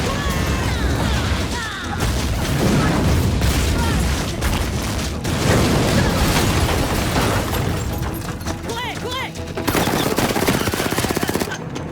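Explosions and heavy gunfire in a combat scene from an action film, a dense, loud, continuous barrage of blasts and rapid shots with voices mixed in underneath.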